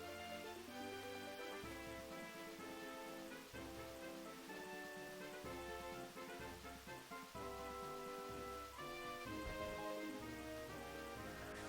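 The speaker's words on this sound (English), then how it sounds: "Yeah, I'll say it started to rain." Rain falls in the Pokemon Black video game, a steady patter under a constant layer of melodic game music.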